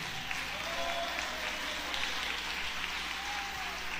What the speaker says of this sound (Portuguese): Vamos melhorar essas palmas.